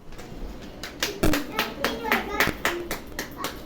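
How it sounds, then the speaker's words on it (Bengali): A small audience claps in scattered, uneven bursts for a child called up onto a stage, with a voice speaking over the applause. "মানালির জন্য জোরে হাততালি হয়ে যাক"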